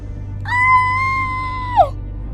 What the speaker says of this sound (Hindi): उस चिल्लाती हुई आवाज को सुनकर नीलू की चीख निकल जाती है।